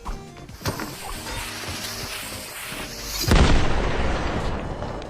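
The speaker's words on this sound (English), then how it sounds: "they decided to throw a nade while in the room" A grenade blows up inside a room in the video game Fortnite, a single loud booming blast after a few brief pops and clicks, its rumble lingering and filling the space to the end.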